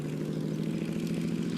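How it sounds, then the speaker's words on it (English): The Rolls-Royce Meteor engine of a Cromwell tank at an outdoor military show, a steady deep rumbling drone held loud and even with no pauses. "Lovely sound from the Rolls-Royce Meteor engine in the Cromwell."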